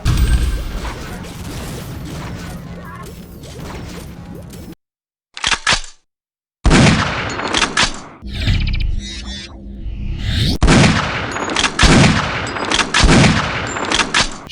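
Shotgun fire from the Unreal video game comes as a series of sharp, loud blasts with mechanical clacks, broken by short dead-silent gaps and followed by ringing tails.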